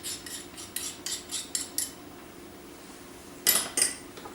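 Warmed honey scraped out of a container with a utensil, a series of short, close scraping and clinking strokes followed by a pause, then two more louder scrapes.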